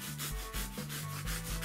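Rhythmic rasping strokes of a sponge being cut, saw-like back-and-forth scraping repeating steadily at close range, with no talking.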